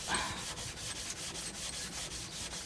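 A synthetic sharpening stone is lapped on nearly worn-out sandpaper, a quiet, close, gritty rubbing in quick, regular back-and-forth strokes, about four per second.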